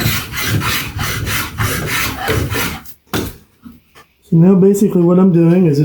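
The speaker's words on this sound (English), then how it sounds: "just planing it all down to that line." A hand plane shaves wood with curvy grain down to a marked line, giving steady rhythmic rasping strokes at close range, followed by someone talking.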